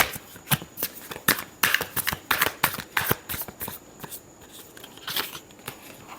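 Tarot cards are shuffled in a rapid, uneven flurry of crisp riffling snaps and slaps, close and steady for several seconds, with no voices.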